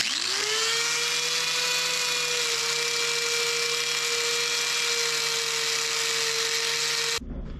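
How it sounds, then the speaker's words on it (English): A wire wheel spins up and whines steadily while cleaning a car exhaust manifold part, holding a sustained high tone for several seconds before cutting off abruptly near the end. No one talks. "we'll just clean this up with the old wire wheel"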